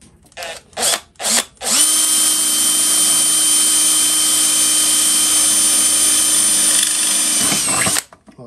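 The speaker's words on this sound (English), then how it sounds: "we're going to put our hole through with our pilot hole" Power drill boring a pilot hole for a lathe control box, a few short trigger bursts followed by a long, loud, steady whine that cuts off abruptly near the end.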